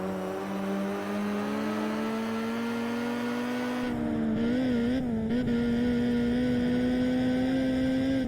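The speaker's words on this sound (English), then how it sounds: "this has a really weird oscillating noise," A tuned Saleen S7 supercar engine in Test Drive Unlimited drones at a steady pitch, then its tone begins wavering and oscillating partway through, a continuous close in-car hum with no voices.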